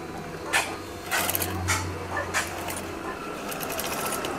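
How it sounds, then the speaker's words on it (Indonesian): A sewing machine stitches the end of a home-made curtain in a few quick, fairly quiet bursts of running needle, separated by short pauses and light handling noises. "Jahit lagi bagian akhir seperti ini."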